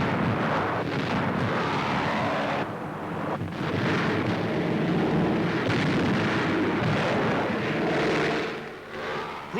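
Harmless chalk practice bombs dropped from planes at a bombing school for air cadets burst in a continuous roar of rumbling blasts, with surges of noise and a brief dip partway through.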